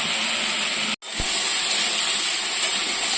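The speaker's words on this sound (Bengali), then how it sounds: "অল্প একটু লবণ হলুদ দিয়ে ভেজে নিচ্ছি সবজি" Vegetables fry with a little salt and turmeric for a fish curry with drumsticks and potatoes, making a loud continuous sizzling hiss that drops out for a moment near the start and then resumes.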